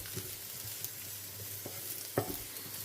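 Potatoes frying in oil give a quiet, steady sizzle, broken by a few soft clinks and scrapes of stirring, with no voices.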